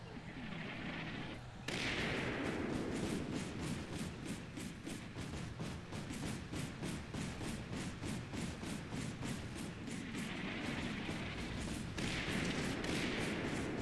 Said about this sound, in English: Requin's dropping artillery over here.